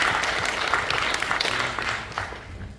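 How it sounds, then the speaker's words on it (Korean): Audience applause at a Korean festival evaluation forum as a panel chair is introduced, dense steady clapping from a seated crowd. "큰 박수 부탁드립니다"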